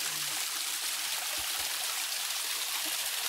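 Steady broadband rush of water flowing at Bairappa waterfall near Hubli, a constant close wash of sound with no talk.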